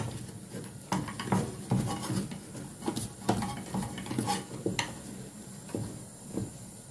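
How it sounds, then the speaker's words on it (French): A spoon stirs egusi sauce with spinach in a pot, giving irregular scraping strokes and sharp metallic clinks against the sides, close and fairly quiet, with a faint simmer underneath. "Je mélange bien"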